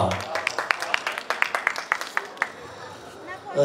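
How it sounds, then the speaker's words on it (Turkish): A crowd applauds at a Turkish wedding ceremony as rings are given to the bride and groom, brisk uneven clapping close by that fades out, with chatter and voices mixed in. "Alkış!"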